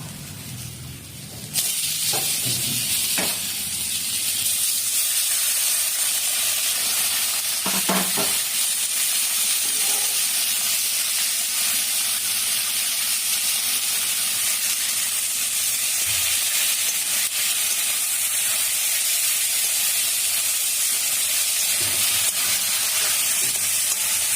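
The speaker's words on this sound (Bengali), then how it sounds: "কলাটা ভাজা ভাজা হবে।" Green banana hits a hot pan and a loud, steady sizzle starts abruptly and keeps going, with a few soft knocks of stirring.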